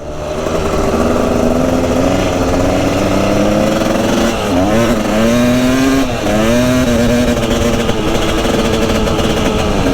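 A dirt bike engine revs hard while being ridden, a loud, close, continuous buzzing drone whose pitch climbs and dips with the throttle across the whole stretch.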